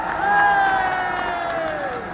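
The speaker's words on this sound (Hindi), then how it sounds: "जोरदार तालियों से स्वागत कीजिए।" A large outdoor crowd at an INDIA Alliance political rally in Delhi cheers and claps in a steady, loud roar, with some voices carried through the PA.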